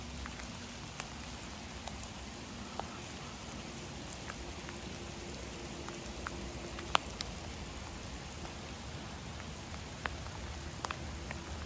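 Rain falling outdoors in Spain: a steady, faint wash of patter with occasional sharper individual drops ticking on a surface, with no voices.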